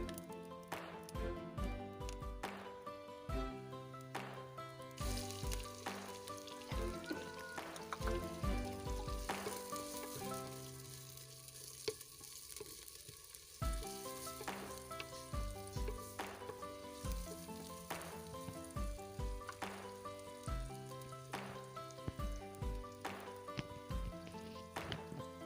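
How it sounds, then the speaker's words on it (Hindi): Onions and cumin sizzle as they fry in a pan, with a steady hiss running beneath louder rhythmic background music throughout. "ज़ीरा हमारा हल्का सा भून चुका है। अब हम इसमें प्याज शामिल करेंगे"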